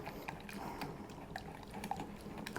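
Milk being whisked into a creamy salad dressing in a bowl, quiet and close, with faint liquid sloshing and light rapid ticks of the whisk.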